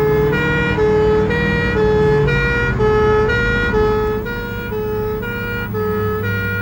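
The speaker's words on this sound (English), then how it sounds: "Two pump engines race to an exercise at a domestic house fire." Two pump fire engines race to a domestic house fire exercise with a loud, close siren wailing in a repeating rising-and-falling pattern over a low engine rumble.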